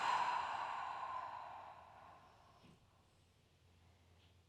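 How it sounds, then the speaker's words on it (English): A forceful exhale during yoga breathing, pushed out hard through the body: one long, airy breath close to the mic that starts strong and trails off to near silence. There is no talking. "Try and expel every last bit of air before you take an inhale."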